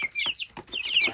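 Chickens, including a Rhode Island hen, cluck close by in quick overlapping bursts, several short throaty calls in a little over a second.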